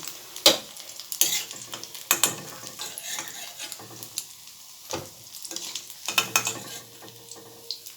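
Shrimp pakoras fry in hot oil with a low continuous sizzle, punctuated by several sharp scrapes and clatters of a spoon against the pan, close by and without talk.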